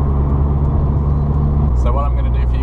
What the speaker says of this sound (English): I don't know how well you can hear me over exhaust noises and road noise and stuff